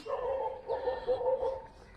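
Dogs bark and whine at a distance, a string of thin, drawn-out yelping calls that carry steadily over a quiet outdoor background.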